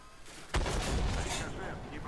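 A single heavy tank cannon shot with a ricochet in the video game Armored Warfare: a sudden loud blast followed by a rumbling, fading tail over faint background.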